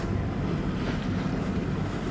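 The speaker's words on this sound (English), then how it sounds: "we are coming out from the straits and into the open sea. High is the mainsail for now, with one reef." Sailboat running under a single-reefed mainsail out of a strait into open sea off the South Norwegian coast, with a steady close roar of wind buffeting the microphone and the wash of waves, with no voices.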